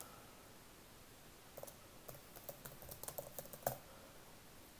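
Faint, quick computer keyboard typing as a signature is entered, a short run of light clicking keystrokes after a quiet start, close by and alone.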